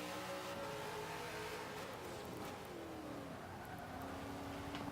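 A Holden race car engine in Forza 5 screams at high RPM, revving continuously with rising and falling pitch sweeps as it shifts, steady and close throughout without talk.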